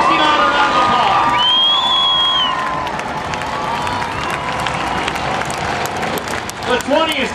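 A county-fair grandstand crowd at the Antelope Valley Fair trailer race claps and cheers loudly, with an announcer talking over the ovation as it slowly fades.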